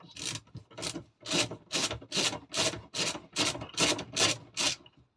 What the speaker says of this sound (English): So basically I've got to undo these screws.